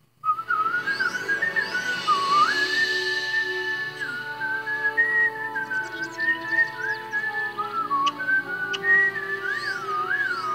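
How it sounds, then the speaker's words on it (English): A person whistles a long, wavering melody alone, clear and close, sliding between notes with brief pauses and no talk over it. "This is the perfect environment for the whistling."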